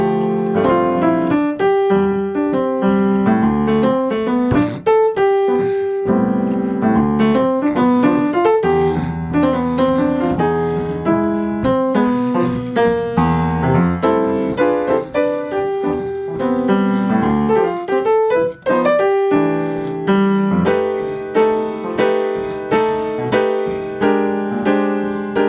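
Solo jazz piano plays a piece with a 3-against-4 cross-rhythm, three-note groupings set over a four-beat pulse, with dense chords and a steady, loud, busy texture throughout.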